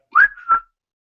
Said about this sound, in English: Darkhood lets out a whistle.